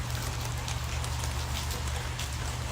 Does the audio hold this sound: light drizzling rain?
yes